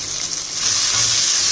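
Finely chopped green chili and shallots sizzle in a hot pan for a drumstick flower dish, a steady close hiss that grows louder and fuller midway and runs alone without any voices.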